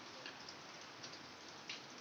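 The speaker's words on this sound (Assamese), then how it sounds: "বৰষুণ দি আছে পুৰা" Steady rain falling outdoors, a dense even hiss with a few sharper drops ticking through it, no voices.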